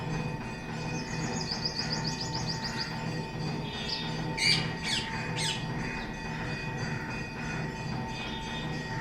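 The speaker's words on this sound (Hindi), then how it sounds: "ये पैराकीट्स ऐसे ही आते रहते हैं। सुबह बहुत आते हैं" Parakeets squawking in a morning garden in Gokul: bursts of shrill, harsh calls, with a rapid chattering run early and a louder cluster of squawks in the middle, over a continuous low background rumble.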